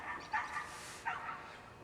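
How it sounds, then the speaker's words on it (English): Distant dogs barking outdoors by a porch, two faint bursts of barks about a second apart, heard alone without talk. "here we go again. Dogs, more dogs."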